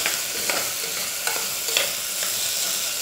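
Potatoes sauté in a hot pan for dal khichdi, giving a steady sizzle and repeated scraping stirs every half second or so, close up, with no speech.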